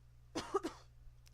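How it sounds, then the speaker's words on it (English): A single close, sharp cough breaks out in two quick bursts over a faint steady background hum, with no talking. "Sorry to cough."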